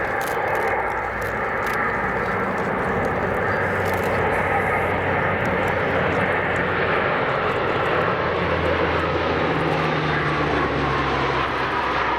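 A Lockheed P-3 Orion maritime patrol aircraft, German Navy, flies past at an air show with its undercarriage down, a loud, steady turboprop drone with broad roaring rush holding throughout, no talk over it.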